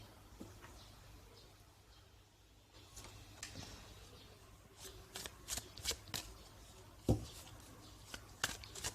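Tarot cards being shuffled by hand at close range, with a run of crisp riffling bursts that grow more frequent and louder toward the end over a faint steady hum.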